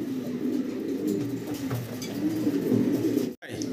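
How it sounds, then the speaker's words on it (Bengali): Running pigeons in a loft coo in soft, low, repeated throaty bursts, fairly close and quiet over a faint background hum, with a brief dropout near the end. "ভাই এগুলা রানিং কবুতর ভাই।"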